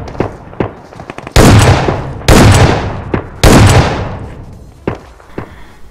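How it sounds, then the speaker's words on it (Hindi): Shotgun blasts in the video game PUBG Mobile boom out, three heavy reverberant shots spaced about a second apart, with a few lighter cracks between them. "शॉटगन से ना इसका जी जान फाड़ दिया मैंने बिल्कुल"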